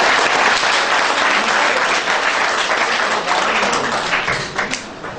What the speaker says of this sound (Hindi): तो उनके लिए सारे बच्चे तालियां बजाएंगे.